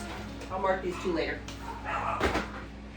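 Dogs on a farm whimper and yip softly in short whiny bursts under a person talking nearby, with a faint knock near the end.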